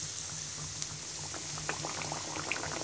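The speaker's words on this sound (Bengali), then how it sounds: "এবার গরম তেলের মধ্যে দিয়ে দিব।" Egg pantua pitha, an egg dipped in flour batter, frying in hot oil: a steady close bubbling hiss with scattered small pops and crackles throughout, no voices.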